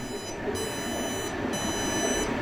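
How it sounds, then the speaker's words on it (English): A deep fryer's electronic timer buzzer beeps in repeated pulses, a high steady tone switching on and off over a busy kitchen hum. "There's my buzzer."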